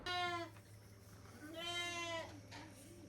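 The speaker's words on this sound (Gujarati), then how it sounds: "એક બકરી મારે ફસાઈ ગઈ છે" A goat stuck somewhere bleats twice, close and clear, with wavering cries separated by a short pause over a faint background hum.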